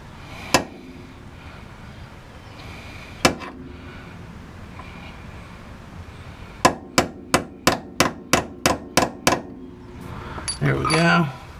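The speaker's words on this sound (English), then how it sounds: "just get a punch here and make us a spot that we're gonna drill" A hammer strikes a punch to mark a drilling spot on a rusted, seized bolt in the rear suspension of a 1997 Honda Civic. Two isolated metallic hits come first, then a quick even run of about nine sharp close blows, with some talk around them.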